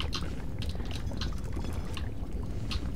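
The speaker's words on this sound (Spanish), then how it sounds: "Os tiro el agua hirviendo, panda de cabrones." Boiling water poured out in Valiant Hearts, a steady splashing, gurgling pour with faint bubbling pops, continuous and fairly close for a few seconds.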